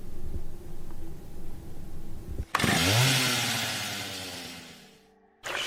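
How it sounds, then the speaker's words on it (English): A video game chainsaw revs up suddenly and loudly, snarling for about three seconds before it cuts off, after a stretch of low rumbling background. "Why did the little girl have a chainsaw?"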